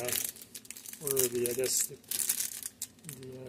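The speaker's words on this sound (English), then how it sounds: "I put it in this plastic bag" A plastic bag holding clear parts from an AMT Batmobile model kit crinkles and rustles in short bursts close to the mic, with someone speaking in between.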